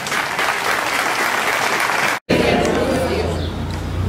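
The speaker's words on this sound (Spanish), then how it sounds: "Un aplauso para Jesús resucitado." An Easter Sunday Mass congregation breaks into steady applause inside a church, dense clapping mixed with murmured chatter, briefly cut off before resuming with a low hum underneath.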